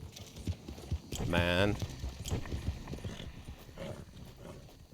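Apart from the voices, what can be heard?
horse galloping in a video game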